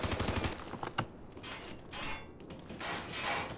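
Gunfire in Ghost Recon Future Soldier: rapid, fairly quiet automatic shots clatter at the start, followed by a sharper crack and intermittent noisy bursts at a moderate distance.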